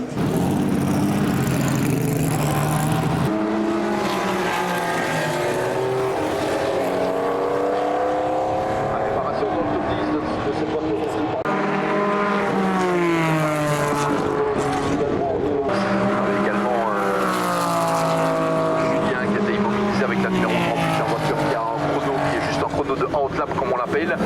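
Classic race cars at Le Mans roar past one after another, engine notes sweeping up and down in loud overlapping passes, with a voice talking over the steady track noise.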